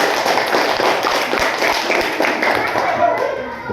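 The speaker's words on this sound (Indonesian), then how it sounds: "Beri tepuk tangan." A class of children at an elementary school clap their hands together in a dense, steady patter that fills the room, with young voices chattering over the clapping throughout.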